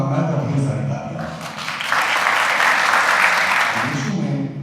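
Enthusiastic crowd applause at the Prerna Awards ceremony in Singapore, swelling after a brief spoken line and holding dense and loud before tapering off.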